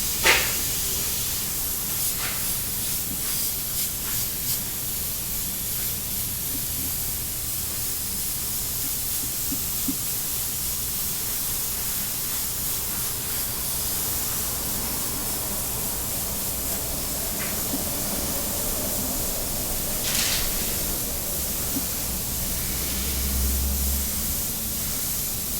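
An airbrush spraying paint onto a resin pour, a steady close hiss running throughout with a few brief clicks and bursts, no talking.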